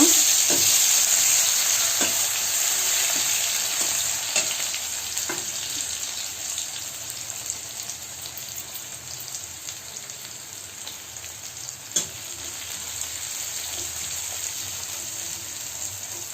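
Chopped onion fries in a pan, giving a steady bright sizzle with scattered pops and occasional stirring scrapes, constant and close throughout.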